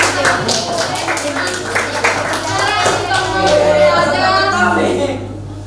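A class of students in a school classroom claps in applause. A short, dense burst of clapping is heard close by, then fades under voices that carry on speaking.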